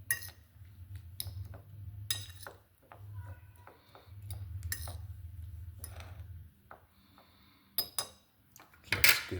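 Kachumbari tossed with squeezed lemon in a bowl, a utensil clinking and scraping against the dish in repeated light taps and stirs, close and fairly quiet.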